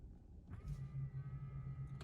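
Electric motor whir of a Tesla Model 3's wing mirrors folding, a steady close hum starting about half a second in and running for roughly a second and a half before a short click-like end, with no talking.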